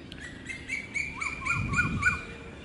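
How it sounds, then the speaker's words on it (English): Birds chirp in a repeated series of short, bright calls outdoors among purple pineapple flowers, fairly close and steady in rhythm, with a faint low rustle of movement underneath and no voices. "Lots of birds flying around."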